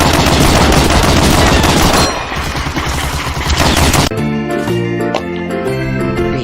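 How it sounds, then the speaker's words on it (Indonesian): A black toy machine gun plays a loud electronic firing sound effect, with dense rapid bursts that switch into a tinny jingling tune partway through, and no talking. "ternyata mainan tembak-tembakan warna hitam"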